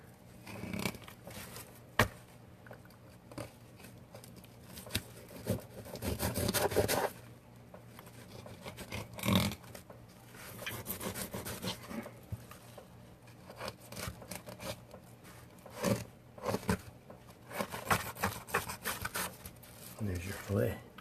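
A knife slicing along a walleye's backbone to cut a fillet, with soft scraping and rubbing strokes and occasional sharp taps, quiet and close, while a person talks throughout.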